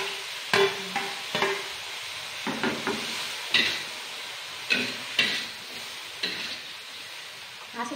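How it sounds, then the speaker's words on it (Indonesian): Bean sprouts with salted fish sizzle steadily in a hot pan while a utensil scrapes and clacks against it in irregular strokes, close and fairly loud. "Ini tambah sebentar aja gorengnya ya"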